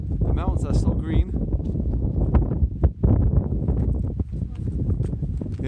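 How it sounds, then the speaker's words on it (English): Strong wind buffets the microphone outdoors in a green mountain setting in Stewart, British Columbia, gusting loudly and continuously while people talk and call out over it. "Yeah, it's really windy."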